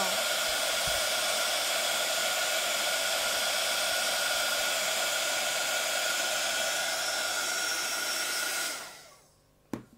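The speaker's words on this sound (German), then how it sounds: "auch das werden wir jetzt embossen" A hair dryer heats embossing powder on paper for card crafting, blowing with a loud, steady whirring hiss for nearly nine seconds before switching off and winding down, followed by a small knock.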